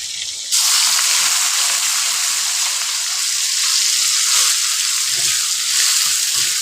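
Mushrooms with ground spice paste being stir-fried in a pan of used frying oil: after a brief quiet start, a loud, continuous hiss of sizzling fills the rest of the clip, steady and close, with no talking.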